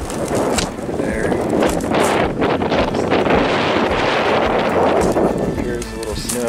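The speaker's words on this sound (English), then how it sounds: "Sorry about the wind." Strong wind buffets the microphone on the Mt Rose summit, a loud continuous roar and rumble filling the whole clip, with brief bits of talk beneath it.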